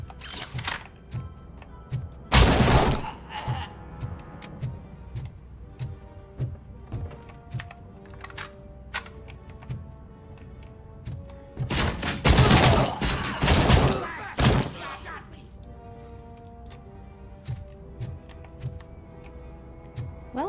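Rifle gunfire in the video game RoboCop: Rogue City, loud bursts of shots at about 2.5 and 12 to 15 seconds over game music and clatter, with sharper single impacts scattered between.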